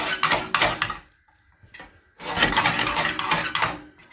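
Fresh pasta moved around a pan with oil and garlic, two bursts of clattering and scraping against the metal, the first about a second long and the second longer, separated by a near-silent pause.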